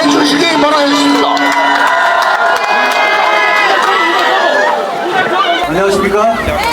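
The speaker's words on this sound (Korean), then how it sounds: "큰 박수 한번 환호해 주시기 바라겠습니다." A crowd at an outdoor political rally in Yeongdeungpo on a rainy morning cheers and clamors loudly and continuously, with shouts and voices over the dense roar.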